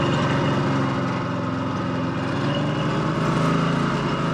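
A 1954 Harley-Davidson KH 750 motorcycle engine running steadily nearby, a dense, even mechanical drone with a low rhythmic pulse throughout and no talk.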